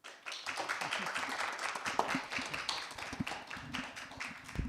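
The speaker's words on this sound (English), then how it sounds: "So please give him a warm applause for his contribution to the field." Moderate applause from a conference audience honoring a retiring professor, a steady patter of many hands clapping at medium distance, continuing for several seconds without talking.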